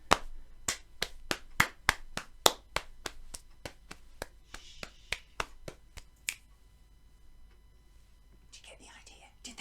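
A Year 5 class taps and claps a steady rhythm pattern of quick, sharp strikes that grow softer and sparser, then stop, followed by faint whispering voices at the end.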